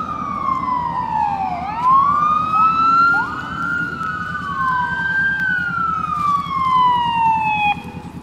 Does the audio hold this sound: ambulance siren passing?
yes